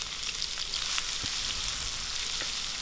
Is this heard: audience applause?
no